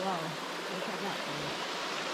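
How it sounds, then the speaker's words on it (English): The highest waterfall in West Africa roars as a steady, hissing rush of falling water heard from close by. A faint voice briefly sits under it at the start. "This is the waterfall."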